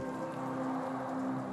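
Steady rain in the Sherlock Holmes The Awakened video game, a dense continuous patter that fills the short stretch at an even, moderate level with no voices.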